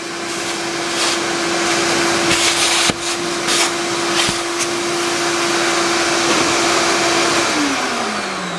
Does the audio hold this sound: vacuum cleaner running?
yes